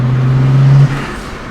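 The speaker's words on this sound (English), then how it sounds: "Yeah, exhaust sounds good." A BMW 135i engine drones steadily through the exhaust at close range, then drops off abruptly near the end.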